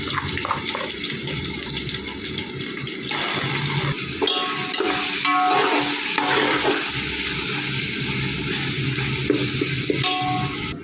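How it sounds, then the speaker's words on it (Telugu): Ginger garlic paste hits browned onions in a pan for veg biryani and sizzles loudly and steadily at close range, with occasional stirring scrapes and bursts of louder spitting. "బ్రౌన్ అయ్యాయి అల్లం వెల్లుల్లి పేస్ట్ వేసుకుందాము"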